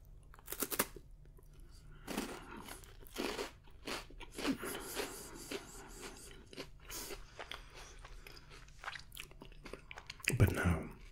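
Someone crunches and chews a small chocolate wafer bar with three chocolate layers, producing crisp close-up bites and crackly chewing in bursts with quiet gaps between them, the loudest bite near the end.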